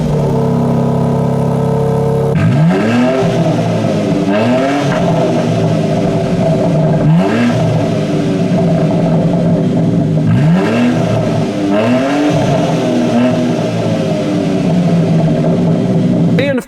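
A 2020 BMW X3M SUV in sport mode sends its sport exhaust through several loud, close revs, each climbing and falling in pitch, with a steady engine rumble between blips and no talk.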